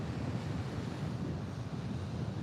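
Coastal surf with waves rolling steadily through, a continuous low wash with wind rumble across the microphone and no talk.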